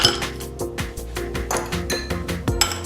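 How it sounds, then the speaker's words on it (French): Ice cubes drop into a cocktail glass from an automated cocktail-mixing machine with laboratory pumps, a rapid series of bright, close clinks and rattles repeating at an uneven rhythm. "quelques glaçons."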